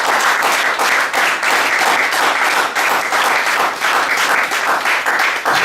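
A church congregation at a Sunday service bursts into sustained, loud applause for the Lord, many hands clapping together steadily throughout.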